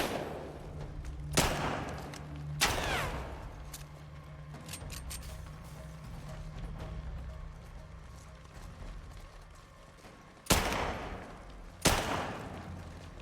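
Gunfire in the video game The Last of Us Part II, four sharp loud shots spaced irregularly across the clip over a low ambient game background, with no talking.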